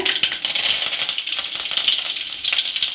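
Mustard seeds and curry leaves frying in hot oil for a Hogenakkal-style fish curry: a dense, steady crackling sizzle with tiny popping seeds, close and continuous, no voices.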